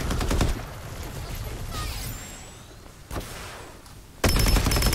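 Automatic weapon fire in the shooter game Farlight 84, a loud burst at the start and again at the end, with quieter distant shooting and effects between.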